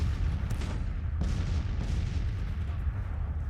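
Civil War cannon fire in a strategy game booms continuously, heavy low rumble with repeated sharp reports layered over a dense battlefield din.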